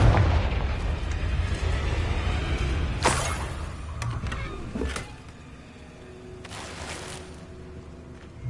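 Repeated Confringo spell blasts in Hogwarts Legacy: booming, rumbling explosions with sharp bursts around the middle and end, loud and close, fading into a lower rumble between hits.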